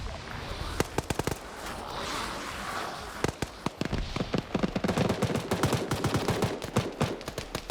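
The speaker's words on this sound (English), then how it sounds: "try and shoot the head" Gunfire in the World War Z video game, rapid bursts of sharp shots in quick clusters, loud and dense, with occasional voices among the shots.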